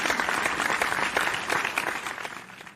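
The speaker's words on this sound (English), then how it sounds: "Give applause for Angel." A class of students applauding a classmate named Angel, dense close clapping from many hands sustained throughout and tapering slightly at the end.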